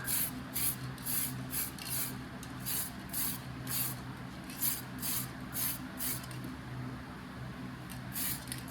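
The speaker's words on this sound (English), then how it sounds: "to just mist it very lightly, just so it have like something to stick to" Spray paint misted lightly onto an RC car body in short repeated bursts, each a soft hiss, close up and fairly quiet, with even pauses between the sprays.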